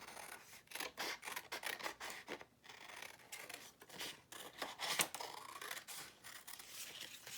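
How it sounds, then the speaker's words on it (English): Scissors snip through paper to cut out rainbow shapes, a close, steady run of crisp rasping cuts and rustles with brief pauses between strokes. "and then you would just cut them out."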